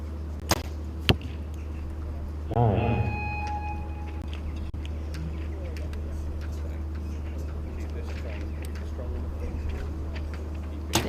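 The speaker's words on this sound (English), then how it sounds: "bit of a gust there for Adam's final arrow." During an outdoor compound bow competition, an arrow is shot in gusty wind and strikes the target: a couple of sharp, close cracks and thuds over a steady broadcast hum and soft background murmur.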